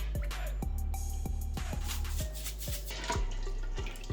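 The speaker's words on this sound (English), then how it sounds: "And the last cup is just water." A cup of water being poured into a cooking pot gives a steady, close splashing pour with repeated sharp clinks and knocks, with no talk over it.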